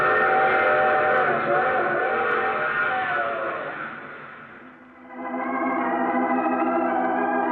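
A steam train whistle sounds long and loud in an old-time radio drama, dips briefly, then resumes with a shifting tone over the rumble of rolling wheels.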